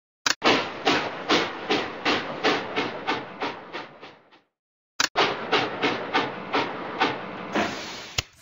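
Cartoonish train sounds from a Curious George trains video game play as two runs of rhythmic, evenly spaced chugging puffs, steamy and mechanical, slowing slightly as they go, with a short silent gap between the runs.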